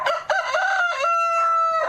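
Rooster crowing at an animal shelter holding birds pulled from an alleged cockfighting operation, one loud, close cock-a-doodle-doo call with a stuttering start and a long, drawn-out final note, heard on its own.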